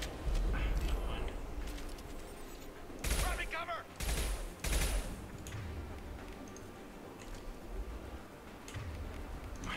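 Gunfire in the Mass Effect 2 video game comes as several loud, close bursts clustered in the middle of the clip, over a steady, busy background of game sound.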